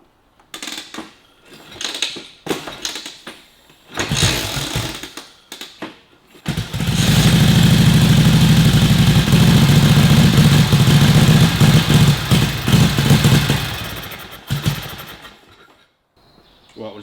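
A 1941 Harley-Davidson WLC on full choke with its timing out, first cranked in several brief, uneven bursts with mechanical clatter, then catching and idling loudly and roughly for several seconds before dying away; voices are heard.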